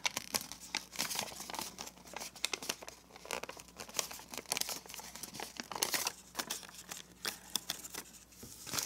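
Paper crinkles and crackles as it is pinched and folded into origami zigzag mountain folds for a marble run, with a steady run of close, dry rustles and sharper crisp snaps.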